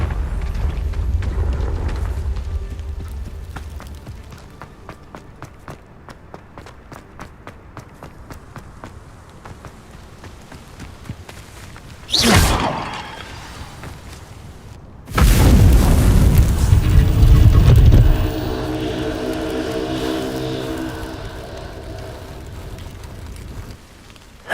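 A Confringo blasting spell in Hogwarts Legacy bursts into a sharp boom, followed moments later by a heavier, rumbling explosion that lingers for a few seconds.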